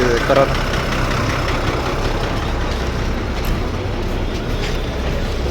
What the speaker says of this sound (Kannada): ನೋಡಿ ಇಂಜಿನ್ ಸೌಂಡ್